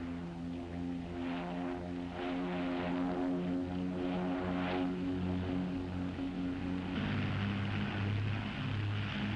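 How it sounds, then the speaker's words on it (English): A 1930s propeller airplane flies overhead with a steady, droning engine hum that holds loud and even throughout, its pitch dropping slightly near the end as it passes. "That's your brother's plane?"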